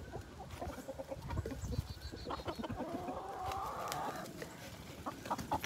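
Farmyard chickens cluck and squawk repeatedly at close range, with scattered sharp calls and a brief rising squawk standing out over a busy background of bird noise.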